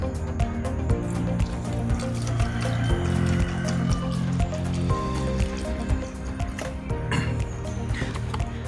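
Fresh milk poured into a mango lassi mix of mango, yogurt and ice, a close, continuous liquid pouring and splashing sound with dripping and sloshing amid kitchen clatter.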